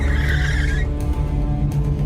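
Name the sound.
car braking and skidding sound effect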